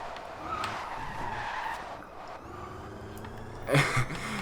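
A 2014 Tesla Model S in Forza Horizon 2 whines and hums steadily, with a rising tone and a brief skidding tire squeal near the end; no speech.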